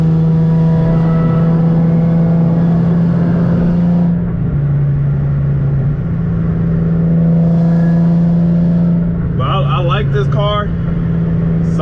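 A naturally aspirated Infiniti G37 on the road, heard from inside as a loud, steady engine drone whose pitch dips and climbs through gear changes, with a person talking over it throughout.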